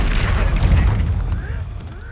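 A Confringo explosion spell cast in a Harry Potter game, a loud booming blast that rumbles and fades over about two seconds.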